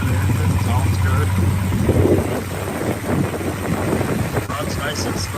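A 1987 GMC Caballero with headers idles steadily, its low engine rumble running continuously and fairly loud throughout, with wind buffeting the microphone.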